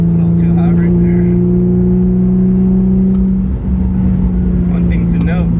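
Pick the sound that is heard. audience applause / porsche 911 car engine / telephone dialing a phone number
porsche 911 car engine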